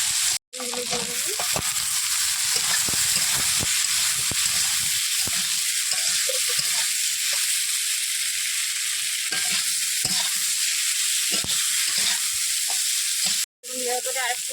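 Ginger and cumin paste sizzles loudly in a frying pan with steady crackling, while stirring scrapes and taps sound through it. The sizzle cuts out briefly near the start and again near the end.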